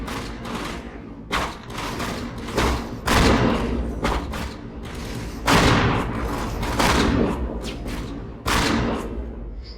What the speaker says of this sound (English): Love the shotgun